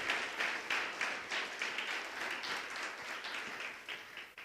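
A church congregation applauding during a sermon, dense crowd clapping that comes in uneven waves and slowly fades, heard from a moderate distance.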